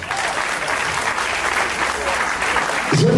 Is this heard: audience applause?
yes